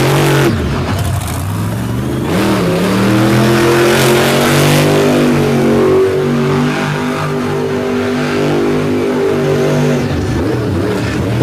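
A roughly 14,000-pound monster truck roars through mud during a rainy motorsport event, its engine revving hard with rising and falling pitch sweeps, loud and close throughout.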